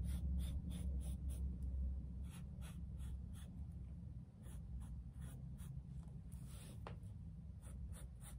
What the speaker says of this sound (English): I'm just kind of sketching it on here.